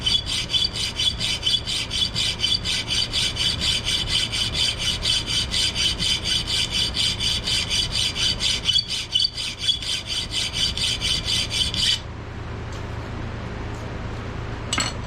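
Steady back-and-forth rasping of a file or saw cutting thumb notches (jimping) into a steel skinning knife blank, close and continuous for about twelve seconds, then a quieter tail with the strokes stopped.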